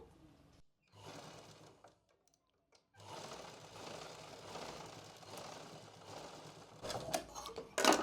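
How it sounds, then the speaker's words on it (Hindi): A sewing machine stitches elastic into the waistband of pants, running in two bursts of steady motor whir with needle clatter, a brief pause between them and a few sharper handling clicks near the end. "ऊपर की साइड से मैं थोड़ा सा सिल लूँगी इसे"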